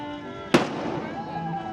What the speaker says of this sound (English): The cannons are about to fire.